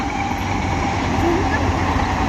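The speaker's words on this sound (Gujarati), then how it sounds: "રેલગાડી આવી છે અત્યારે" A continuous low rumble and rolling clatter of a train going by on the tracks, steady and fairly loud, with faint voices mixed in.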